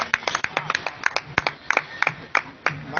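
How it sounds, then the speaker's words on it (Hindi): Audience applause at a Hindi poetry recital: a run of sharp, separate hand claps from a small crowd, fairly close and uneven in rhythm, with no speech. "जोरदार ताली दीजिए"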